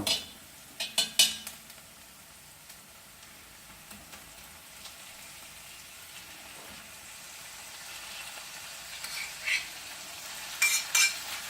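Beef searing with onions in a hot wok over a high flame, a soft steady sizzle broken by sharp metallic clatters of a utensil against the pan at the start and the end, close by and with no talking.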